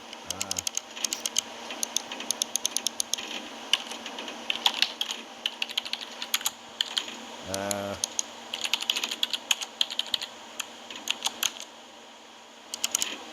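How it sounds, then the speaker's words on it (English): Rapid keyboard typing in the video game Everlasting Summer clatters in bursts of quick keystrokes, fairly close, with a short low mechanical whir in the middle. "I hear typing."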